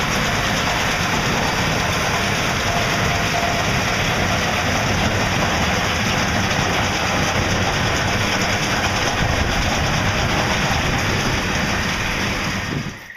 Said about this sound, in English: We're standing here in front of our 2270 XD large square baler. As I mentioned earlier, we're running it with a 7624 Massey tractor.